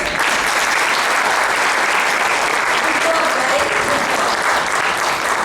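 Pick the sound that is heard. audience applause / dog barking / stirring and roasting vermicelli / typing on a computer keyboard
audience applause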